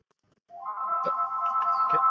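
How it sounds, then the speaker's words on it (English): A phone rings during a full council meeting, a steady electronic ringtone starting after half a second of quiet and sounding continuously and fairly loud, with faint voices in the room. "Phone ringing."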